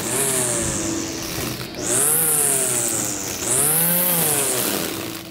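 A string trimmer cuts grass, its small engine droning loudly and close, then revving up in two distinct surges.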